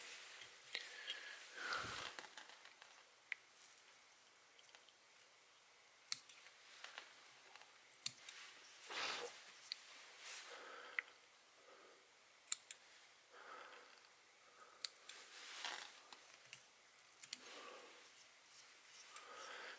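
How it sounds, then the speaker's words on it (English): Soft, irregular snipping and clicking of scissors trimming deer hair on a dry fly close by, with brief rasping cuts scattered across a quiet background. "I'm just going to use the scissors here and clip the body down"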